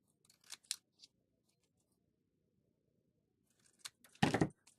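Hand-held scissors snip through paper in two brief bursts, a few light cuts first and then a louder, fuller run of snips a few seconds later, close by with a quiet pause between.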